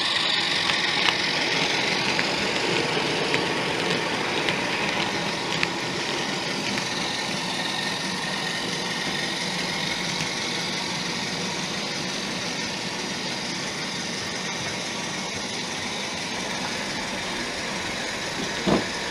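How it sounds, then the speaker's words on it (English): A model railway diesel locomotive drones steadily as it passes hauling a fuel train, with a continuous engine rumble and rail noise at moderate distance. "passes through with the fuel train"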